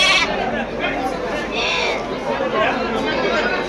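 Bandur sheep and lambs on a farm bleat continuously at close range, overlapping calls mixed with people chatting in the background.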